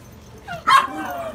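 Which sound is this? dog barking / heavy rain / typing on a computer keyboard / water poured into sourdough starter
dog barking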